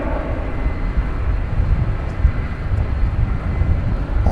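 An airliner departing DFW Airport for Istanbul at night produces a fairly loud, rumbling engine roar that surges unevenly, heavy in the low end, with no voices.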